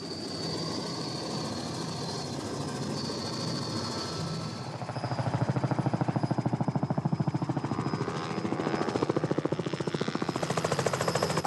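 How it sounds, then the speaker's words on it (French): A helicopter roars steadily from inside the cabin while shaken by turbulence above a volcano crater in Vanuatu, its rotor thumping in a fast regular pulse that grows louder partway through. "l'hélicoptère est un peu secoué."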